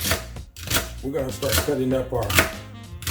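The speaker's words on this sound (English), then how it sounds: "We're going to cut them up into not real small pieces because they're going to cook down." A knife chops celery into pieces on a cutting board: a brisk run of crisp, close chops at a steady rhythm, with a tonal background hum running underneath.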